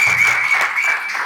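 Applause at a Dubai annual day celebration for children who performed, a close, even patter of clapping with a faint whistle-like tone running through it.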